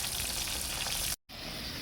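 Chicken frying in oil, seasoned only with salt and Magic Sarap, sizzles loud and steady at close range, then breaks off for a moment and resumes.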